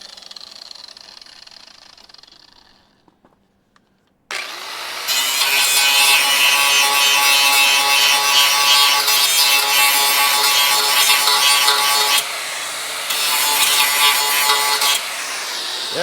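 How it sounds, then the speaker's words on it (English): Removing spot welds from a car body panel during a crew cab Charger restoration. A steady, loud, high-pitched grinding drone starts after a brief lull, runs for about ten seconds with one short dip, then continues. "Almost got all the spot weld out of there."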